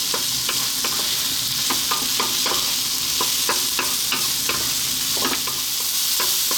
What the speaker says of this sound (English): And to that we're going to add our broccoli. In it goes. Staying on this lively heat about 3 to 4 minutes.